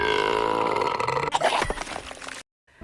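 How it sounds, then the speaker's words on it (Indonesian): A very loud, drawn-out burp from a cartoon character who is running away, rumbling and growly over roughly two and a half seconds before cutting off abruptly. "tiba-tiba dia bersendawa sangat keras hingga memuntahkan permatanya."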